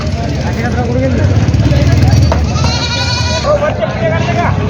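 Goats bleat loudly and repeatedly at a busy Osmanabadi goat market in Maharashtra, their calls overlapping with crowd chatter and people talking nearby.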